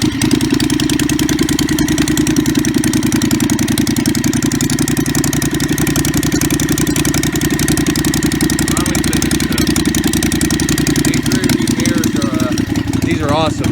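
Predator 670cc engine on a Yerf Dog go-kart running steadily, a loud, close, evenly pulsing thump at idle that holds throughout with no change in pitch, while someone talks over it.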